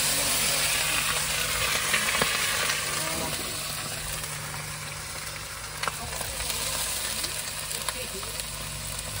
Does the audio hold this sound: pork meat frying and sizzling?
yes